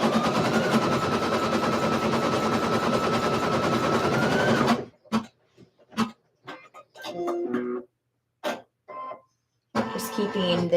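An embroidery machine stitches light pink thread onto a shirt with a steady, loud mechanical whirr that stops midway, leaving scattered clicks and brief machine movements before it starts up again.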